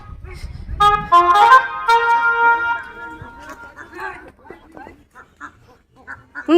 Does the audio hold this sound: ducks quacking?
yes